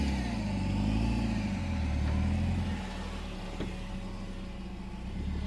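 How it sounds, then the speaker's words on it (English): The engine of a modified Suzuki Gypsy hums and revs steadily as the vehicle drives sideways in a crab walk. The sound is close and continuous, its pitch shifts slightly, and no one speaks. "The car is literally going sideways"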